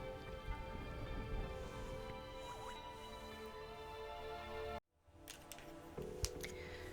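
Soft, steady rain falls in the video game The Darkside Detective, a continuous hiss under a faint hum that drops out abruptly partway through and gives way to quieter ambience with a few light knocks.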